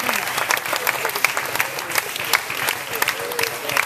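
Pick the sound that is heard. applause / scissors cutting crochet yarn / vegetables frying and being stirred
applause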